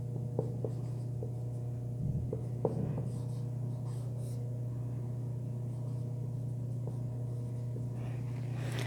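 A math calculation for the surface area of a triangular prism is written out by hand in soft, continuous scratchy strokes with a few taps, over a steady low electrical hum, with no one talking.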